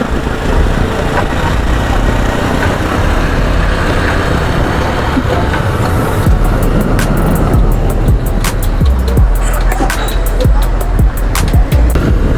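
A motorcycle pulls away in Dhaka traffic on Bangshal Road, heard as a loud, continuous engine and road roar with rushing noise and scattered clicks later on.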